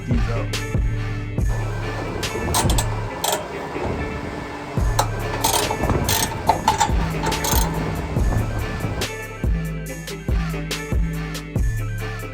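Ratchet clicking and metallic clinks while exhaust bolts are removed from a car's axle-back exhaust, in short bursts with pauses, close up, some knocking and rubbing between the ratchet runs.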